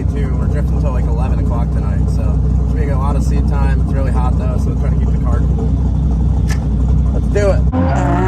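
A turbocharged Honda S2000 drift car's engine drones and revs loudly and continuously at a drift event, with a person talking over it close by.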